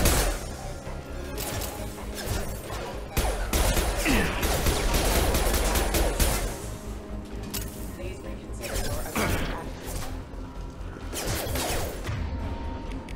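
Sustained gunfire and combat clatter in the video game Mass Effect 2, Legendary Edition, with repeated loud bursts and crashes over a dense battle mix, while voices talk over it.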